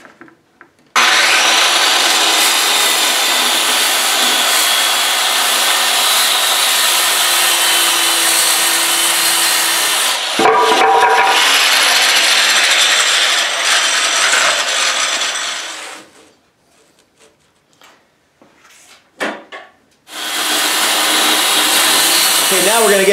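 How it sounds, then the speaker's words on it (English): A circular saw rips through wood to cut guitar body blanks. It makes a loud, sustained, harsh whine for about fifteen seconds, then stops briefly with a few faint knocks, and then starts another loud cut. "the easiest way to do that is with the good old circular saw"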